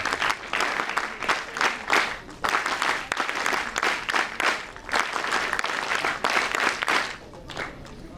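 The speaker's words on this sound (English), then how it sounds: "a huge round of applause for all participating teams" A crowd claps for the participating teams at a National Integration Camp inauguration, with dense, loud, sustained applause throughout that rises and falls in waves.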